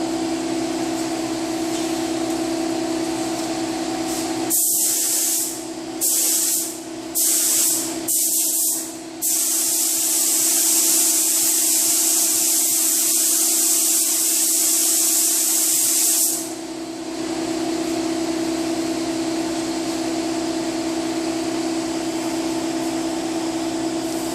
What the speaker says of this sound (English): Kind of a transparent base coat with pearl mica in it. I'm going to put at least 2 coats of that